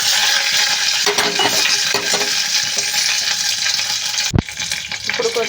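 Dried red chillies fry in hot oil in a pan for chutney, a loud close sizzle with stirring scrapes and a single sharp metallic clink of the spoon, no voices.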